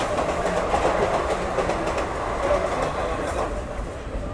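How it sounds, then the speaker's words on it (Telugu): A train rolls past the platform at Manchiryal station with a loud, continuous rumble and faint wheel clatter throughout. "అదేదో ట్రైన్ G9 వేసుకొని ఫ్లాట్ 110లో పోతుందండి"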